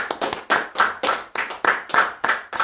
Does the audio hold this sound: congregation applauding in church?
yes